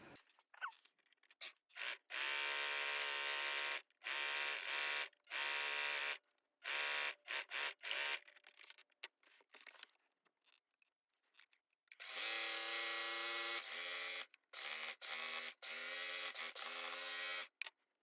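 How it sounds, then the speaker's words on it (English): Sewing machine stitching stretchy shorts in repeated bursts of fast, buzzing running, separated by brief pauses, close and fairly loud, with no talking. "I'm going to sew this first with the sewing machine"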